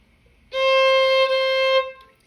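A single sustained violin note played sharp, slightly raised in pitch, rings steadily for over a second with rich harmonics, close and clear with no talking, then fades out.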